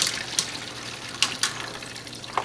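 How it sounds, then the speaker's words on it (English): Water runs into a Harbor Freight vibratory tumbler bowl to rinse it, a continuous close splashing fill broken by a few sharp clinks. "I'll fill it with water"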